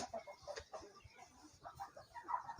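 Faint, close clucking of free-range village chickens come to lay eggs, a scatter of short soft calls over quiet background.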